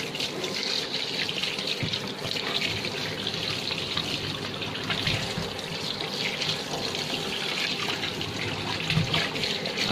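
Tap water runs steadily into a sink as scaled hilsa fish, rubbed with salt, are rinsed, a continuous splashing trickle with faint handling knocks throughout.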